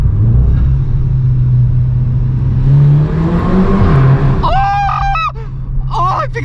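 Volkswagen Scirocco with a DSG gearbox revving hard after a downshift to first, a loud continuous engine drone rising in pitch from inside the car, with brief talk over it near the end.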